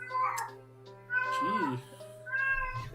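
A house cat meows several times at close range, drawn-out whining cries with pauses between them, while a person briefly speaks.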